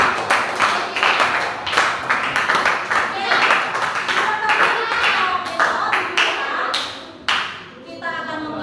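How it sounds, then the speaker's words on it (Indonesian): A class of students claps hands together in a lively burst of overlapping applause, with voices chattering and cheering underneath throughout. "Tepuk tangan untuk kita semua."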